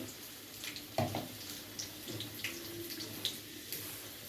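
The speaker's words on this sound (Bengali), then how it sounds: "এবার আমি দিয়ে দিলাম গ্রেভির জন্য জল" Water is poured into a Bengali fish curry masala in a pan to make gravy, a soft, faint splashing and sizzling heard close up and continuing through the whole clip without speech.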